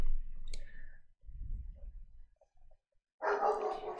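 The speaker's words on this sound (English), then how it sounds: "So there's the dog barking." An irritated dog barks in short bursts indoors at someone walking outside, with a few quick clicks between barks and brief quiet gaps.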